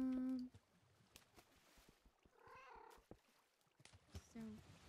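Minecraft cat meows several times during underwater gameplay, with a clear mid-clip cry amid splashing game sounds and brief bursts of talk at the start and end.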